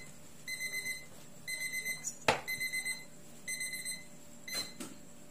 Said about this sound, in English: I have a bread in the oven, that's why I have a timer on.